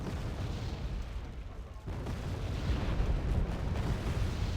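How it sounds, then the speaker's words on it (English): Cluster bombs striking tanks in Wargame: Red Dragon, a barrage of heavy overlapping explosions with deep rumbling booms and a brief dip before a second, louder rolling wave of blasts. "the cluster bombers have destroyed my tanks"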